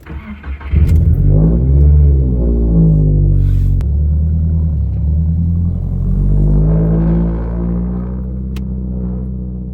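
Subaru WRX fitted with a bigger turbo and running E85 fuel, engine starting and settling into a loud, steady low rumble with harmonic tones, close and alone with no talk.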